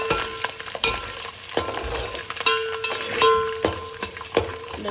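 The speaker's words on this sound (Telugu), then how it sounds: "ఆయిల్లో మగ్గిద్దాము కొద్దిసేపు, ఒక 5 మినిట్స్." Garlic cloves frying in oil for garlic rice, a steady close sizzle broken by repeated clinks and scrapes of a spoon stirring the pan, with no talking.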